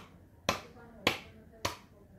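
Three sharp, evenly spaced claps ring out, close and crisp, with short pauses between them and nothing else around them.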